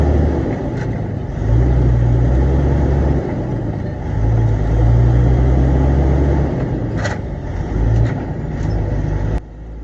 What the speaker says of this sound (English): And right here, I was shifting from high to low gears, and I always struggle with that.